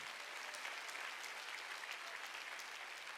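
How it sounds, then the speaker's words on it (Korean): A church congregation at a Sunday worship service bursts into dense, even applause, a steady wash of many hands clapping together, fairly quiet and distant and without any voices over it. "입법자와 재판관은 한 분 하나님의 걸 믿으면 박수치라"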